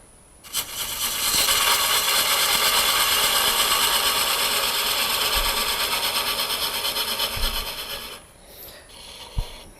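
A wood lathe spins a turned weed pot at about 500 RPM, a steady, loud, close mechanical whir that starts suddenly, holds for several seconds, then winds down with a few light knocks.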